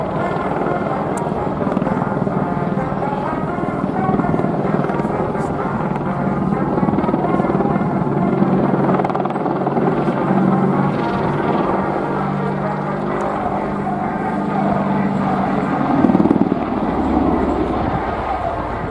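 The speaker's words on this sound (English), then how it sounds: "The Apache will now perform a hammerhead melt flying vertically to almost to a complete stop" An Apache helicopter flies a display at the RIAT 2016 air show, its loud continuous rotor thrum and turbine roar filling the whole stretch while a public-address commentator talks over it.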